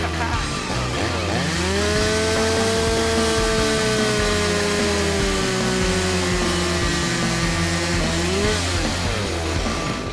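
A chainsaw runs steadily and loudly for about ten seconds, trimming the excess off timber pieces for a mirror frame, its engine pitch sagging under load mid-cut and rising again near the end.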